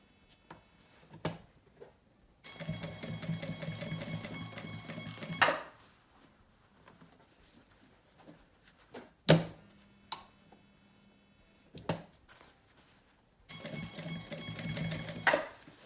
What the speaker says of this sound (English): whatever sewing machine you're using,